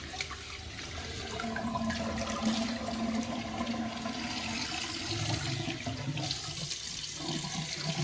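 A warm rag lifted out of a bowl of cooled warm water during a straight razor shave, with steady trickling and dripping water sounds running throughout at moderate level, no talking.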